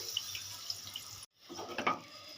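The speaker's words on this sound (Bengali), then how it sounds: "এখানে অল্প পরিমাণে জল দিয়ে দেব ওই পাটি ধোয়া জলটাই দিয়ে দেব" Water from rinsing a stone grinding slab is poured into a pan of bean and mustard curry, a close, gentle trickle that briefly stops, then resumes with a brighter splash.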